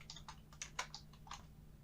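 A prompt typed on a computer keyboard: a quick burst of faint, close keystrokes, about eight clicks in under two seconds over a low steady hum.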